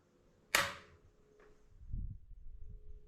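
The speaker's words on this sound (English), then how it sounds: "We'll just shoot this Kentucky rimfire sighter target" A single sharp crack from a Marlin Model 25 rimfire rifle stands out against near silence, followed by a faint echo and low rustling handling noise.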